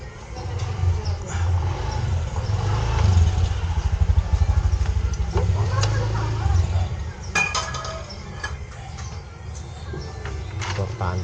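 Tools clinking against metal while the engine support bolts on a motorcycle are tightened, with light metallic taps and ratcheting over a low background rumble and someone talking.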